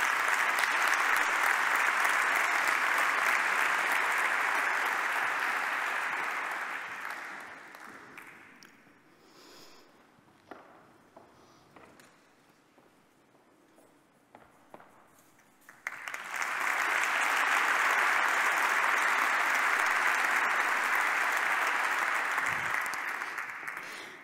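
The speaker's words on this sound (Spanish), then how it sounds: "Un fuerte aplauso" Loud, sustained audience applause for an award winner at an Advanced Analytics awards ceremony, fading to near quiet midway before a second strong round swells and holds to the end.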